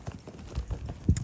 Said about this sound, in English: This is our walking horse.